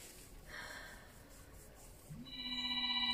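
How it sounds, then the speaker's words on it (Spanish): A telephone ringing in a quiet room, a faint tone first, then a steady electronic ring that swells in loudness over soft background hiss. "Suena el teléfono"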